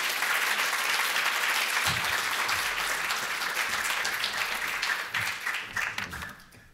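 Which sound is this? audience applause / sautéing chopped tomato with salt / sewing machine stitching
audience applause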